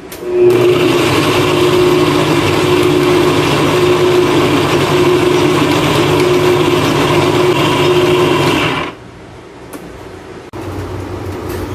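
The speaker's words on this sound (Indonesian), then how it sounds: "lalu di blender" A blender whirs loudly and steadily for several seconds blending cheese and sweetened condensed milk, with a constant motor whine, then shuts off, leaving quieter handling noises.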